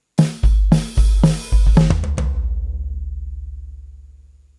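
A brief drum pattern on a Roland electronic kit, with the bass drum filling in part of the figure: several heavy low hits and a couple of sharper strikes, then a long decaying low tone.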